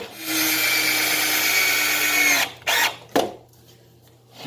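A power drill drives a screw into a wooden aquarium stand, whirring steadily for about two seconds, then a couple of short final bursts before stopping, close and loud.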